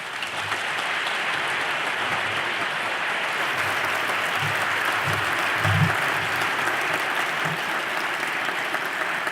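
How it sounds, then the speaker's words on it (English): Sustained applause from a lecture hall audience as Vint Cerf is introduced at the Gamow Memorial Lecture, even and continuous clapping from a sizable crowd lasting about nine seconds with no speech. "when people clap before you've said anything"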